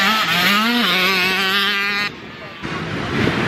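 A motorcycle rides on a race track, its engine droning loud and close with a climbing pitch and a gear change, then cutting briefly before picking up again.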